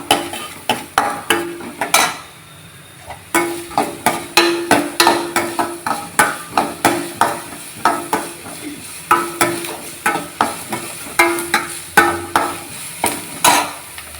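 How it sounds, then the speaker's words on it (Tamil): Onion sautéed in a pan for vegetable fried rice, dominated by rhythmic metal spatula scrapes and knocks against the pan, repeating steadily with a soft sizzle beneath and a short pause partway through. "அடுத்து ஆனியன், நல்லா வதக்கலாம்."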